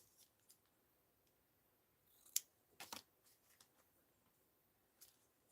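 Scissors snipping thread during slow stitching, a few quick quiet snips with small handling clicks in an otherwise quiet room.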